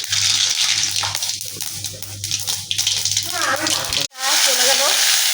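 Mustard seeds temper in hot oil with a close, bright sizzle and crackle that builds as vegetables go into the pan, with a voice speaking briefly.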